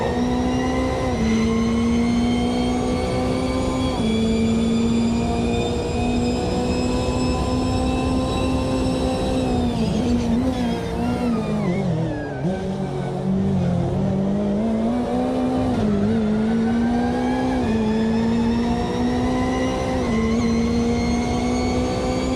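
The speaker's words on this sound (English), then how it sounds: "I like the sounds of the car inside." GT3 race car engine heard from the cockpit in the Automobilista 2 racing game, a loud continuous high-revving drone that climbs through gears, dips briefly under braking around the middle, then rises again, with no talking.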